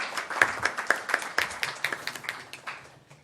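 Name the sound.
applause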